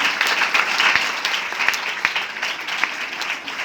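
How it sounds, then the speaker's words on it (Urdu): Loud congregational applause fills a church during a Father's Day sermon, dense steady clapping from many hands with no talk over it. "زوردار تالیاں اپنے زندہ خدا سے بلائیں۔"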